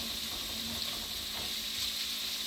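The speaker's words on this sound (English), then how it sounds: "Give my garlic a stir through there. We don't want to burn the garlic." Garlic sizzles in a pot over lowered heat, a steady, close, bright frying hiss with faint stirring scrapes underneath.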